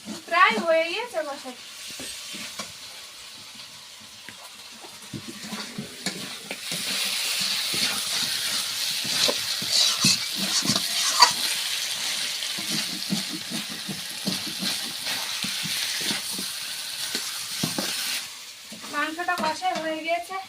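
Mutton being sautéed in a pan for an Indian home-cooked lunch, with a steady close sizzle and intermittent scraping stirs through most of the stretch, and a person speaking briefly at the start and end.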